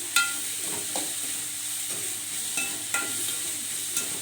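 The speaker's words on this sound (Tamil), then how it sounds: "உப்பு சேர்த்து நல்லா வதக்கிக்கோங்க" Onions sautéing with salt in a pan, a steady close sizzle with occasional clicks and scrapes of a spoon stirring, no voices.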